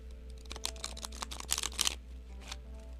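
A deck of tarot cards gets a quick shuffle, with a brief flurry of papery riffles and flicks over a low steady hum, close and fairly crisp.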